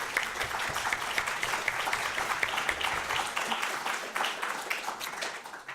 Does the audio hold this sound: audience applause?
yes